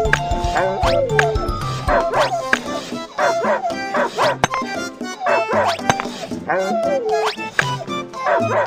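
A cartoon puppy in an animal rescue game yips and whimpers repeatedly over loud, busy background music and sound effects, with high-pitched cries recurring throughout.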